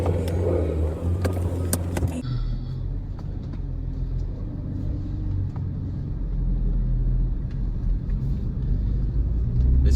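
A BMW M3 E46 with SMG gearbox driving along, a deep steady engine and road rumble heard from inside the cabin, building slightly in loudness.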